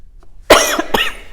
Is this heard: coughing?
yes